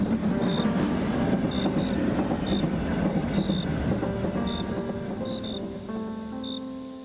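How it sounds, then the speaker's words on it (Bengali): A train rolls along steadily with a broad rumble and faint high squeals, its noise gradually easing as it slows to a stop at a quiet station, with a tonal hum near the end. "শেওড়া স্টেশনে যখন ট্রেনটা থামল তখন চারপাশ নিঝুম"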